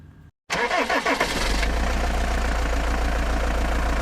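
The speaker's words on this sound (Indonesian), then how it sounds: "Kalau motor ini suaranya kayaknya begini deh." A motorcycle engine cranks and catches after a brief silence, then settles into a steady, loud idle close by, with no talking.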